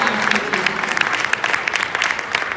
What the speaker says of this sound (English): Please a big round of applause for my mom